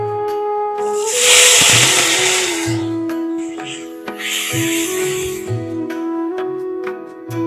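Onion paste sizzling in a hot pan: two loud bursts of hissing spatter over a steady tonal hum, with clinks and light background noise between them.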